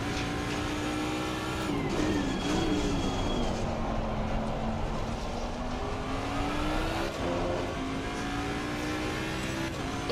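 A Ford Mustang GT race car in Assetto Corsa Competizione at Imola roars close by, its engine pitch climbing through the gears and dipping on shifts and braking, with other cars faintly audible around it.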